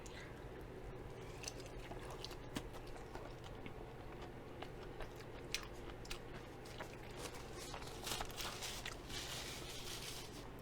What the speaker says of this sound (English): Let's try the first chew